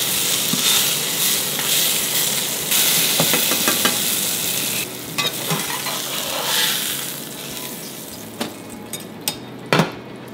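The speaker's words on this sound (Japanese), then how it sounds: "これも表面に焼き色つけるぐらい、鴨のこうエキスを吸わせるようなイメージ" Leek browning in rendered duck fat in a frying pan after a duck roast: a bright, dense sizzle that eases off slightly, punctuated by scattered taps and scrapes of a utensil near the end.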